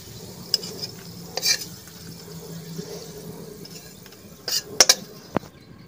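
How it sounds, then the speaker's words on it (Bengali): Cumin and onion fry in oil in a pan, a quiet steady sizzle broken by a few sharp metallic clanks of a spoon against the pan. "আলাদা জিরে ভাজি করে নিচ্ছি"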